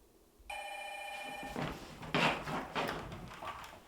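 A telephone bell rings in a steady burst, fairly close and clear, then stops as handling noises and a voice follow.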